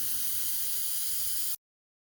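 An airbrush hisses steadily and softly while spraying paint, a continuous close airy stream that cuts off abruptly into silence.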